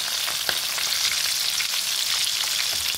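Onions and green chillies fry steadily in hot oil for an Andhra-style roti pachadi chutney, a dense, continuous sizzle with faint crackles, close and alone without any talk.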